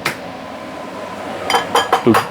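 Two eggs are cracked against a bowl or pot for imitation sharksfin soup: one sharp tap at the start, then a quick run of clinking knocks and a wet crack near the end.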